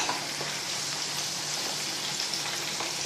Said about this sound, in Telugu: మసాలా అంతా కూడా పచ్చి వాసన పోయేంత వరకు ఫ్రై చేసుకోవాలి.